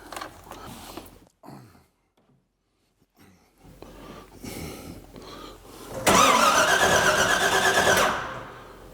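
Cranking of a 1958 Corvette's 454 engine with the ignition: after some quiet handling noises, a loud, steady churning of the starter turns the engine over for about two seconds, up close, then cuts off without catching.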